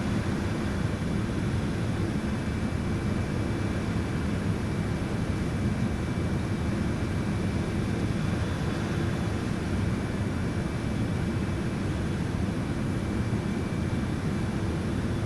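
Airliner jet engines in Microsoft Flight Simulator during a climb at 250 knots, a steady, dense roar that holds unchanged and loud throughout.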